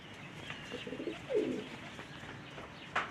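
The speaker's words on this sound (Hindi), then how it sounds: "बहुत शानदार कबूतर है" A captured pigeon, held in the hand, gives a few soft, low coos, the clearest swelling in the middle and another brief call near the end, over a quiet outdoor background.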